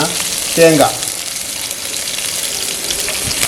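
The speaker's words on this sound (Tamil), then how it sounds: "இந்த கடுகு வெடிக்கிற நேரத்தில்" Mustard seeds crackling in hot oil with chillies and curry leaves, a continuous close sizzle with faint scattered pops, and a brief vocal sound early on.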